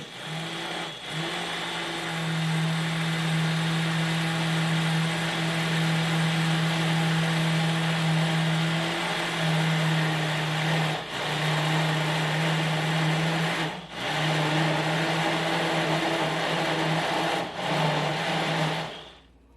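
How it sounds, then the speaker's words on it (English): A cheap $16 blender whirs steadily while blending a creamy jalapeno dip made with sour cream. The motor hum is loud and close, running almost continuously for about twenty seconds and cutting out briefly three or four times. "you will have to take something and scrape it off the sides in this blender"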